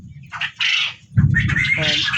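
Quail flocked together in a pen give squawking calls and chattering cries, close and fairly loud, with bursts of rustling and wing movement between them.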